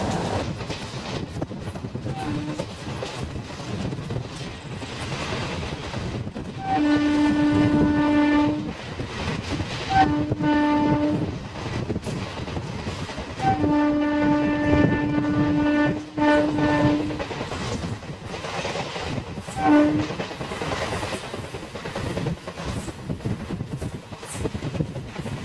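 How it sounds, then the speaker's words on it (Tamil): The Thirupathi Express races along at about 110 km/h, a loud continuous rumble of wheels and wind roar, with a long horn sounding in several drawn-out blasts through the middle; no talk. "இப்போ நம்ம போயிட்டுருக்க ஸ்பீடு பார்த்தீங்கன்னா 110 km/h ஸ்பீடில் வந்து போயிட்டுருக்கு ட்ரெயினு"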